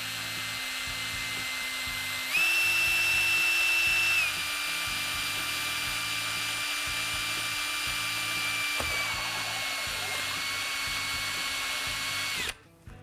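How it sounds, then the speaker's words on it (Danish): A step drill bit bores through acrylic plexiglass with a steady, loud high-pitched whine that shifts pitch as each step cuts, running continuously and then cutting off abruptly at the end. "Og så borer jeg ellers bare til den tykkelse,"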